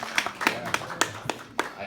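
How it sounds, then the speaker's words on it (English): A small group claps in a few sharp, separate hand claps over a short burst at a comedy-style talk, light and sparse rather than full applause. "Round of applause."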